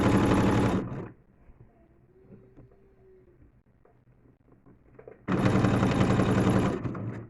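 Sewing machine topstitching a terry face towel hem, two loud rapid stitching bursts at the start and end with a quiet pause of handling noise between.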